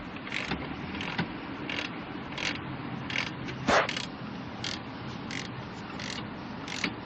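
A ratchet clicks steadily while snugging the cylinder head bolts (11/16) on a Ford 5.4 liter engine, with repeated short ratcheting bursts in an even rhythm over a constant background hum, close up with no talk.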